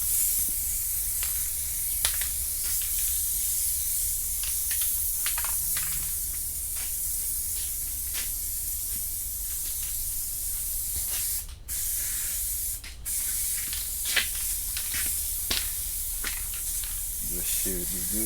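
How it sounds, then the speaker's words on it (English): Loctite spray adhesive hissing steadily from an aerosol can onto both surfaces of a custom fiberglass rear speaker deck being wrapped in vinyl leather, close and continuous, with a couple of brief pauses. "But I'm gonna spray both surfaces though."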